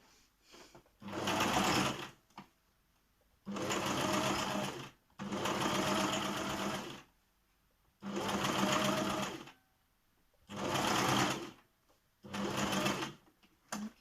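A sewing machine stitching a shaped mask cover runs in six separate bursts of fast, steady whirring and clatter, each lasting one to two seconds, with short quiet gaps between them and no talking.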